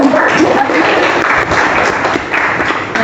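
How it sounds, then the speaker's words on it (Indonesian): Applause from a classroom of students, a dense, steady clatter of many hands clapping together for about three seconds with no pause. "Silakan aplaus."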